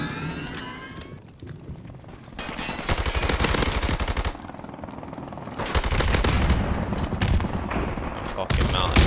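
Lynx CQ300 rifle firing in a video game, repeated bursts of loud close-range gunshots separated by short pauses, mixed with game effects and a voice talking over parts of it.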